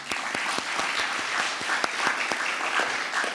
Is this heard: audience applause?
yes